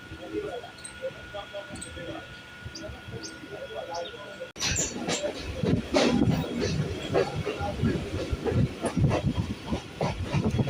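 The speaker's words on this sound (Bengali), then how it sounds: "আজকে ট্রেন চলছে" Kolkata local train running between Majerhat and BBD Bag, a quiet rolling hum that swells into louder rattling and clatter midway, with a voice talking over it.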